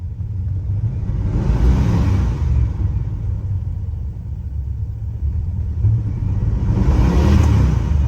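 A 1967 Chrysler 300 engine runs roughly, a loud, close, low rumbling idle that swells twice with revving, uneven throughout.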